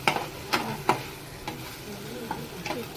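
Prawn chilli with soy sauce cooking in a pan, a steady sizzle broken by several sharp spatula stirs and scrapes, close and clear with no talking.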